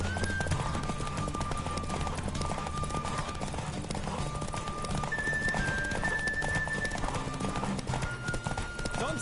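Horse galloping during a race in The Witcher 3: Wild Hunt: rapid, continuous clip-clop hoofbeats over a steady bed of game music, close and constant throughout.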